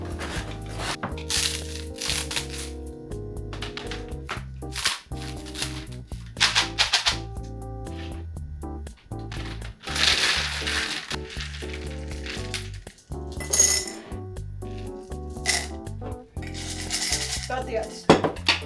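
Ice cubes clink and crack sharply against a container, a busy run of irregular close clicks, knocks and brittle snaps throughout.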